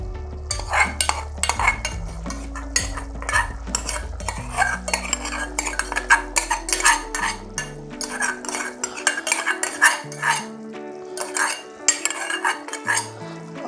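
Chili paste stirred into vegetables cooking in a pot with no oil: loud, rapid metal-on-pot scraping and clinking strokes in irregular bursts, close up, over a low simmering hum, with no talking.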